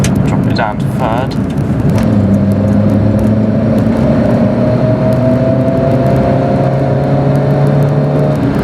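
A Fiat Cinquecento with a swapped engine drives along, its steady engine drone and whirring gear tones running throughout at close range, with a brief voice near the start.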